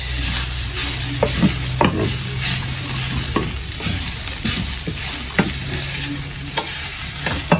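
Ground beef frying in a pan with a steady broadband sizzle, broken by sharp clinks and scrapes of a utensil stirring it every second or so, loud and close with no talk.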